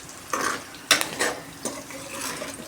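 Ingredients frying in oil in a pan are stirred and scraped by a spatula in three short, rasping strokes with light clinks. A faint sizzle sits underneath, and no one speaks.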